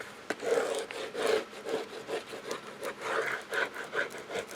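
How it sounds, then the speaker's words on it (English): A bone burnishing tool's flat end rubs firmly over folded paper along score lines for a book's hinge binding, giving a dry, scratchy rasp in repeated back-and-forth strokes, close and steady with no talk. "I'll take the flat end and burnish that"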